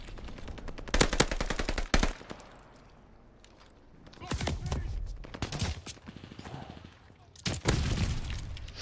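Call of Duty Vanguard gunfire rattles in rapid automatic bursts, loud and close, with quieter gaps between volleys.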